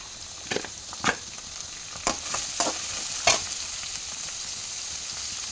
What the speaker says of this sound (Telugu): నెక్స్ట్ ఆనియన్స్ వేస్తున్నా